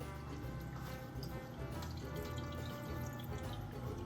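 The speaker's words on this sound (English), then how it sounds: "I'm going to add water to this pan after I set it in to the oven" Water pours steadily into a baking pan set in an oven around a custard flan, a continuous close trickling and filling sound with no speech.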